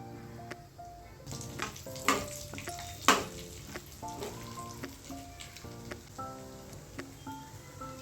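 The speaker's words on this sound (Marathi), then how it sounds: "आता आपल्याला हे थोडेसे एक मिनटं परतून घ्यायचे आहे जास्त परतायचे नाही" Dry fruits sautéing in hot ghee for carrot halwa, a continuous crackling sizzle with rhythmic stirring scrapes and a few sharper pops, close and alone without speech.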